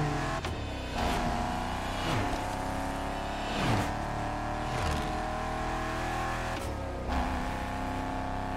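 Eleanor car in The Crew Motorfest video game, its V8 engine roaring and revving hard through repeated throttle surges and gear changes, loud and continuous with no talking.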